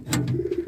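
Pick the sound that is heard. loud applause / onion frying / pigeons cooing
pigeons cooing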